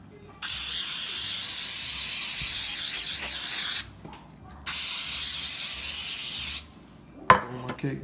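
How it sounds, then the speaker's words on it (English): Baking spray hisses from a can into cake pans in a kitchen, two long steady bursts with a short pause between, close and loud, followed by a light clatter. "Baking spray in"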